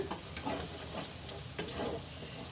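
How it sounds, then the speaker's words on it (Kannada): Ground gongura paste being stirred into soya chunks gravy as it fries in the pan, a close, steady sizzle with scraping stirs and a few small ticks, no voices. "ಗೋಂಗೂರ ಪೇಸ್ಟು ಅದನ್ನೇ ಹಾಕೋತಾ ಇದ್ದೀನಿ ಫ್ರೆಂಡ್ಸ್ ನೋಡಿ ಇದನ್ನು ಹಾಕ್ಕೊಂಡು ಚೆನ್ನಾಗಿ ಮಿಕ್ಸ್ ಮಾಡ್ಕೊಳ್ಳೋಣ"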